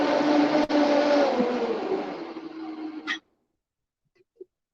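A blender whirs loudly while making basil pesto or a melon smoothie, its motor pitch gradually dropping before it cuts off abruptly, followed by silence and a couple of small clicks.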